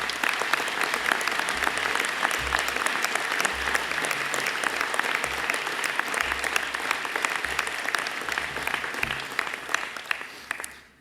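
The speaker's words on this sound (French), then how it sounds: "et que je vous propose d'applaudir" Sustained audience applause fills a New Year's wishes ceremony, dense steady clapping from a large crowd that holds evenly throughout and tapers off only at the very end.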